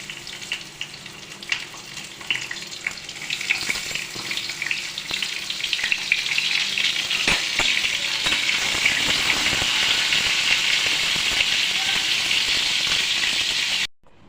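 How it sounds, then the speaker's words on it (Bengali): Pointed gourd pieces fry in a little oil in a pan, a continuous hissing sizzle that grows louder and denser over time with occasional stirring clicks, then cuts off abruptly near the end. "তাই অল্প তেল নিয়েছি যাতে পটল কটা ভাজা যায়।"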